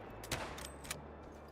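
Two sharp rifle shots from the hunting game theHunter: Call of the Wild, fired a little over half a second apart, loud and close, each with a short echoing tail over a steady outdoor ambience.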